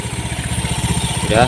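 A fuel-injected motorcycle engine with a check-engine fault cranks and catches, giving a rapid, even chugging pulse up close, rising slightly toward the end.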